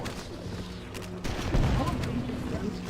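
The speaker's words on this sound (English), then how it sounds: "stop shooting me from all the way back there" Gunfire from Halo: The Master Chief Collection, with shots aimed at the player: dense bursts of fire and impacts crackle over a steady game backdrop and swell louder in the second half, with no talk.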